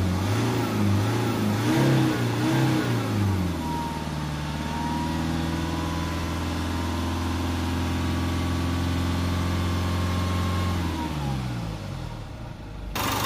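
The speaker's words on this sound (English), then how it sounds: "start the car up. Give the car a few revs, get that fluid going through the system." A Jaguar F-Pace with a 2.0 diesel engine starts and revs, rising to a held, steady higher-speed drone before dropping back toward idle, close and loud throughout.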